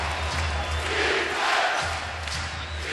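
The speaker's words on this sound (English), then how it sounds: "Crowd chanting defense already." Basketball arena crowd chanting defense during a playoff game, a loud, steady wall of massed voices with rhythmic swells that fill the whole stretch.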